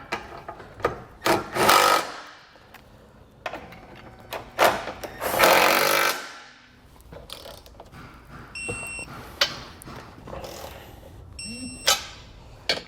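Tightening and torquing the bolts of an EcoHitch Stealth trailer hitch receiver on a 2021 Tesla Model, with sharp ratchet clicks, bursts of power-tool whirring and metallic clanks coming in irregular close-up bursts.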